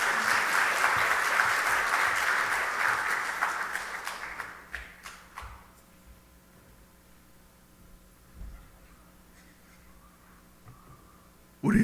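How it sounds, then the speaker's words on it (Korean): A church congregation claps together during a Sunday evening worship service, loud sustained applause for several seconds that thins out and fades into quiet room tone with a few scattered claps near the end. "하나님께 영광의 박수 드리겠습니다."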